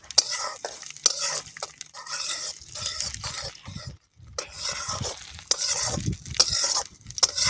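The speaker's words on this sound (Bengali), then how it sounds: "এই তো আমি ভাজছি" Ginger, garlic and dried chili fry in hot oil in a home kitchen, a steady close hiss broken by scraping stirs of a spatula against the pan, with brief pauses in the sizzle.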